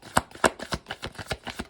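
Oracle cards are shuffled in quick, rhythmic riffles, a close series of papery flicks and slaps at a steady pace, with no talking over them.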